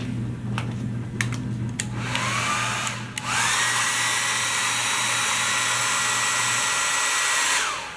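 Hair dryer blowing on a velour repair, a steady loud whooshing hum that briefly cuts and restarts, then runs continuously before winding down at the end, with a few light taps early on.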